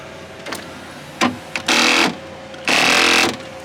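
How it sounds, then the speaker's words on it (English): An electric motor from a car spins up in short whirring bursts, two brief blips followed by two longer, louder buzzing runs of about half a second each, close by with quiet gaps between. "that's the motor spinning"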